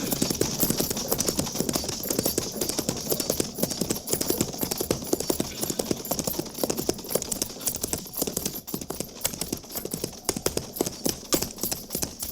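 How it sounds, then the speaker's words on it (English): Hooves of a single horse and rider at Fort Laramie, a steady rapid clip-clop filling the whole stretch at a close, even pace over a constant background hiss, with no talking. "Captain, single rider approaching."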